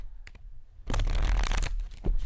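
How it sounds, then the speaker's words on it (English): A Seasons of the Witch Litha card deck riffle-shuffled close up, a quick fluttering burst of snapping card edges lasting about a second, followed by a soft tap. "Okay, so we're going to shuffle this. It shuffles great, just like the other decks."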